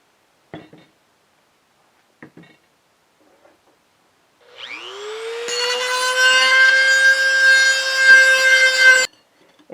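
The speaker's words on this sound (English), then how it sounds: "So now I need to grind where these two pieces are going to connect." A power grinder cuts into ceramic teapot pieces where they will join, starting after a few faint taps and whining steadily and loudly for several seconds before stopping abruptly.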